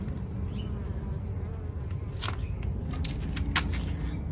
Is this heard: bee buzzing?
yes